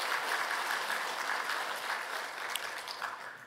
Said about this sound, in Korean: 우리 다시 한번 박수로 한번 축복하겠습니다.